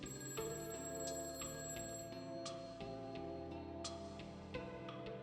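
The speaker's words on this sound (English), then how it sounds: "I had heard my phone ring." Phone ringing in the visual novel A Summer's End - Hong Kong 1986, a quiet repeating electronic ring tone over soft background music with ticking accents, no talk.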